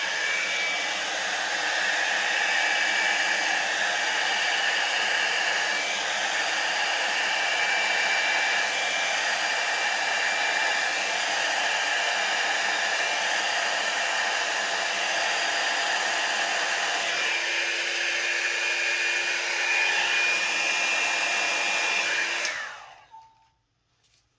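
Hair dryer fitted with a round brush attachment runs on its cool setting, a steady close whooshing whir held for about twenty seconds before it switches off and winds down to near silence.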